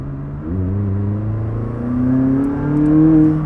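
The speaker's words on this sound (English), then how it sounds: "I want to do some rips in automatic" A McLaren 600LT in automatic mode accelerates hard, its engine note climbing through upshifts in several rising steps, loud and close from inside the car with no talking.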